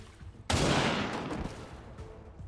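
A sharp gunfire blast in XCOM 2 bursts in loud and near, then trails off into a long rumbling decay with scattered crackle behind it; no one speaks.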